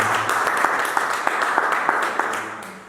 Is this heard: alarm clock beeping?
no